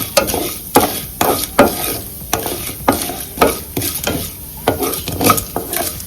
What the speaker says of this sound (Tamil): இதுல கடுகு, உளுத்தம்பருப்பு போட்டாச்சு. இது நல்லா ஃப்ரை ஆகட்டும், நல்லா வதங்கட்டும்.